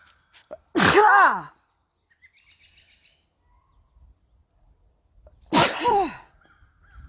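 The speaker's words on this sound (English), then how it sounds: "oh, and now I'm going to sneeze." Two sharp, loud sneezes a few seconds apart, with quiet shuffling and faint high chirps between them.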